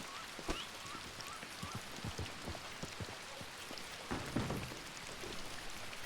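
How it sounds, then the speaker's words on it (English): Rain falling in a ranch roleplay video game, a steady soft hiss of drops on surfaces with scattered patters, fairly quiet and with no talk over it. "It's raining."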